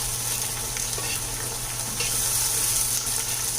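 Green chilies and ginger garlic paste stirred in a hot pan for Bhatkal khichdi, a dense, continuous sizzle with scraping spoon strokes, loud and close.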